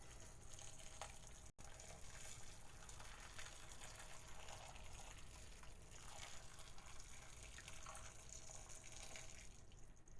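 Water pours into a stew pot for a perpetual stew, a steady, continuous quiet rush that runs unbroken for about ten seconds, with no talking.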